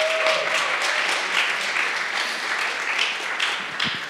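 Loud, sustained applause from a sizable crowd, steady clapping filling the whole moment without a break.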